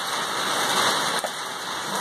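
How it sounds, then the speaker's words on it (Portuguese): Dense, steady hail pelting down on an orchard, a constant loud hiss and clatter without pause. "é chuva de granizo"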